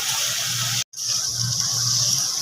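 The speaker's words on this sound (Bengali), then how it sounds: "সামান্য পরিমাণে এর মধ্যে জল অ্যাড করা হয়েছে" Water pours into a pan of spice paste frying in oil with salt and turmeric, a steady gushing hiss that carries on almost continuously, cut only by a brief gap.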